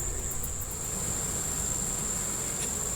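Honeybees drone steadily at a hive, a dense continuous buzz that fills the clip without a break, close and fairly loud, with no voices.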